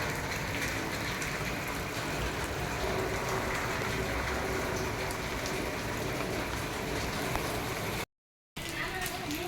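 Steady rain patters down on surfaces all around, a dense continuous hiss with scattered drop taps, quiet and unbroken except for a brief gap.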